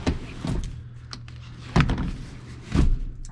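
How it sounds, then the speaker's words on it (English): Opening the rear door and folding the rear seats of a 2016 Toyota RAV4 SE, with several sharp thunks and latch clicks spaced about a second apart, close and fairly loud against a faint steady hum. "If you open the back door and fold the rear seats down"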